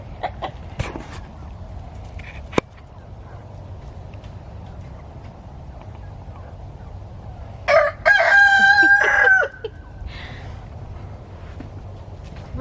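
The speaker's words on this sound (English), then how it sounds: "we're gonna run down here and check on the chickens real quick." A rooster crows once, clear and fairly near, over a steady background hum outside a chicken coop at evening, where newly introduced chickens join the flock; scattered small clucks and brief speech come through before the crow.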